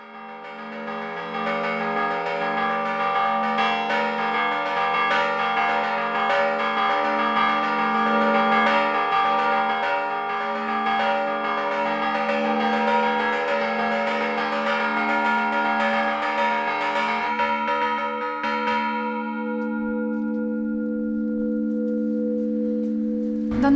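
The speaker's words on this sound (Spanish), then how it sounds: "Las campanas suenan, sonaban en otros tiempos para convocar a los vecinos" Church bells ring from a tower, loud and close, overlapping strokes blending into a dense, sustained metallic peal that thins to a few long humming tones as it fades.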